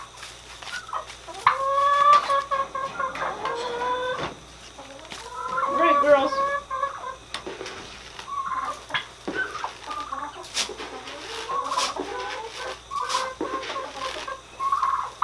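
Hens cluck and cackle in bursts, close by, with a few words spoken briefly among them and softer clucking continuing throughout.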